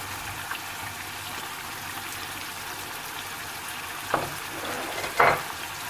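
Meat for Pakistani aloo gosht frying in a pot with browned onions as tomatoes go in, giving a steady low sizzle with two short, sharper hissing bursts near the end.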